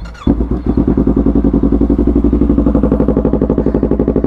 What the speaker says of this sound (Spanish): Ahorita la vamos a encender, ahorita vamos a escuchar el motor